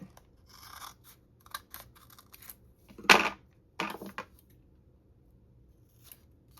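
Scissors snip through paper for coin envelopes in a few quick close cuts: faint crisp snips first, then two louder, sharper cuts near the middle, with quiet pauses between them.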